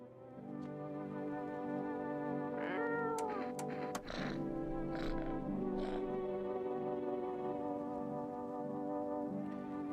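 A cat meows several times in a horror point-and-click game, drawn-out and fairly loud over a steady droning musical background, with a short sharp sound effect midway.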